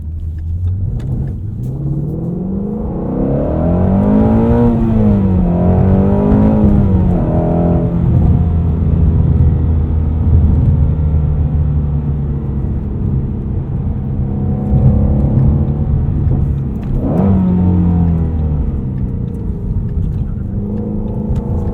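A 2016 Ford Mustang Shelby GT350 accelerates hard on the road, its V8 rising through the revs with clear gear changes, then a steady cruising rumble and another climb near the end, heard loudly from inside the cabin.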